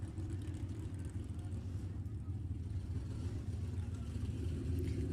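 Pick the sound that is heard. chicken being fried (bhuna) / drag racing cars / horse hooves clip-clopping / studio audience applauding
drag racing cars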